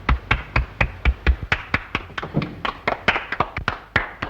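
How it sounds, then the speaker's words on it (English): A small group claps in a 1932 film scene, an even, steady run of crisp hand claps close by, with no voices over it. "Applaud."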